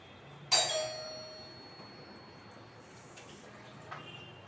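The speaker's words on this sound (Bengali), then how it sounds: "এর মধ্যেই কলিং বেল বেজে গেল" A single bright electronic chime rings out once, then fades into a quiet room with faint distant clinks.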